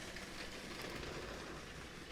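A LEGO RC tank car train rolls along standard plastic RC track, a steady, faint, even rolling hum with no clear clicks.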